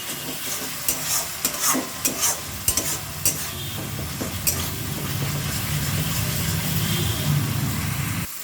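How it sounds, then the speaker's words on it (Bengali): Spice paste for a Bengali fish curry stir-fried in a pan with a splash of water, giving a steady close sizzle with sharp spoon scrapes and clinks through the first half, then a continuous frying hiss. "পরিমাণ মতো জল দিয়ে মশলাটা একটু ভালোভাবে কষিয়ে নেব।"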